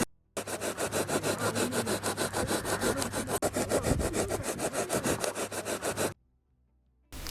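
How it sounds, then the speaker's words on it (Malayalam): A chainsaw engine cutting through a thermocol sheet for a small homemade boat, a loud steady rasping buzz with rapid rhythmic pulsing that runs about six seconds and then stops abruptly. "അത് നമുക്ക് 2 സൈഡ് മാർക്ക് ചെയ്ത് വരച്ച് കട്ട് ചെയ്തെടുക്കാം."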